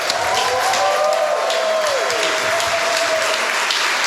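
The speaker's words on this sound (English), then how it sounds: "let's start with a round of applause" Wedding guests applaud at a reception before a speech, a dense, steady wash of clapping at close range throughout, with a few voices faintly mixed in beneath it.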